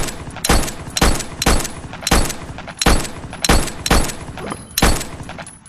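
An infinity gun fires in a video game in a string of loud, close, sharp shots, roughly a dozen, coming in uneven bursts with brief gaps between them.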